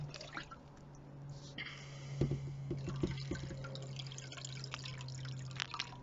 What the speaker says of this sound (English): So I'll just keep filling until we're up to that 1 litre line